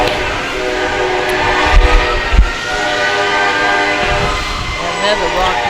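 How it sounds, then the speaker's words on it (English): A train rolls through during a small-town Christmas parade in Rockwood, its horn sounding in long sustained blasts over steady rumbling, with heavy low thumps near two seconds, close and loud. "Oh no, there's a train. That always scares me when there's a train."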